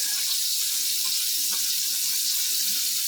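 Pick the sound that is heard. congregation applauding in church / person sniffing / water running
water running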